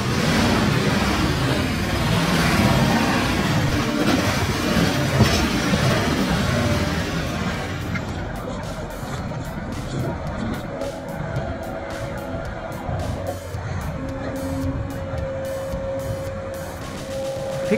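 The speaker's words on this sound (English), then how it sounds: "an absolute beast of a machine. Enter the Cenobogan 870M, a monster with a mechanical appetite for timber that just won't quit" A Cenobogan 870M firewood processing machine runs in snow, giving a loud continuous mechanical roar. Partway through it settles into a lower steady hum with faint clicks.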